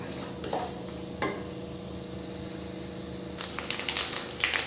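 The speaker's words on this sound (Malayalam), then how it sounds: "ഒരു ലൈറ്റ് ബ്രൗൺ കളർ കിട്ടും വരെ വറുത്ത്." Unniyappam ingredients fry in ghee with a steady, close sizzle, and scraping stirs grow busier toward the end.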